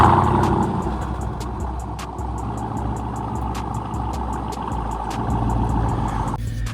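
Stock exhaust of a Jeep Grand Cherokee Trackhawk idling with a steady, deep low rumble. It holds close and fairly loud throughout, with faint clicks above it and no talking.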